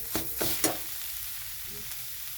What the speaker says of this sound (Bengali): এখন এটা খুব ভালো করে কষাতে হবে